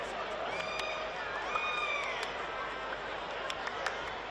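Stadium crowd at an NPL men's grand final football match between Moreton City Excelsior and Lions FC, a steady distant murmur with faint scattered shouts and whistles beneath it.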